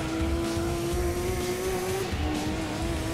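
A race car in Gran Turismo 2 holding a steady high engine whine at speed, with a slight pitch dip partway through and a faint tire scrub underneath, loud and continuous throughout.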